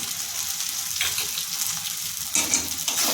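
Mustard, tomato and potato fry in a pan for a spinach curry, sizzling in a steady hiss that jumps louder as the food is stirred or more is added.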